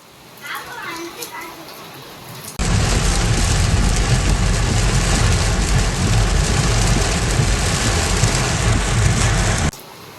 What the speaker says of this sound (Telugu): ఇది ఫుల్ హెవీ రెయిన్ ఉంది నాన్ స్టాప్గా